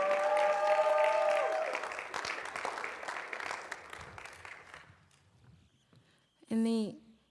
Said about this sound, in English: Please give her a round of applause for